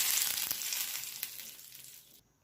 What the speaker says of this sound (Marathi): तर नुसती मोहरीची फोडणी देणार आहे